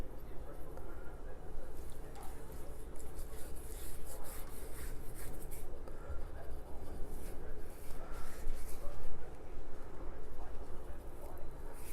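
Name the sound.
spice rub being applied to pork spare ribs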